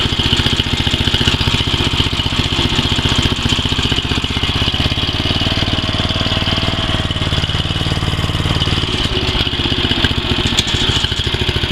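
A BCS two-wheel walk-behind tractor with a frozen clutch runs its small engine at a steady idle, an even close-up mechanical chug with a light clatter, loud and unbroken throughout.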